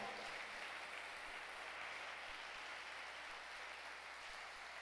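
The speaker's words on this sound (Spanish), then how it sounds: "Dale fuerte el aplauso al Señor" Sustained applause from a congregation during a church service, a steady dense wash of clapping that runs evenly through the whole stretch at moderate distance, with no voices over it.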